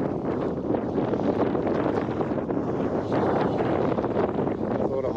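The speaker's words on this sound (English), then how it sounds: "Still super windy. Probably hear that as soon as I turn around like that." Strong wind buffets the microphone on a small fishing boat in shallow water, a loud continuous roaring rush that stays steady from start to end.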